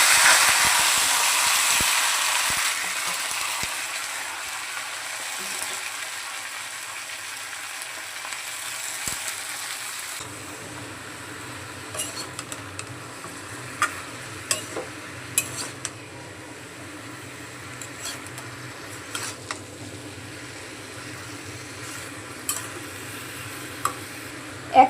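Mixed vegetables sizzle in hot oil with spice tempering for a Bengali vegetarian curry, frying loudly at first and then settling to a softer crackle with scattered clinks of a stirring spoon against the pan.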